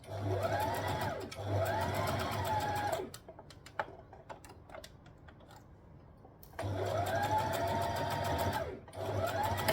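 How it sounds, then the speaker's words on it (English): Sewing machine running a long basting seam on a dress, two sustained bursts of steady rapid stitching separated by a quieter pause with small handling clicks and rustles. "I'm just going to sew all the way down and then all the way up. This is also basting at the same time."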